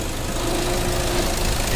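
Steady mechanical whine and engine drone from a Toyota Innova idling while the steering is turned lock to lock, its power steering pump making a continuous noise close up throughout.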